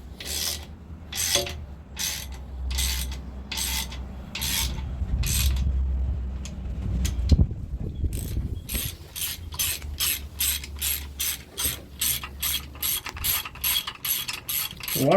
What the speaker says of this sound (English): So we're just snugging up all the bolts.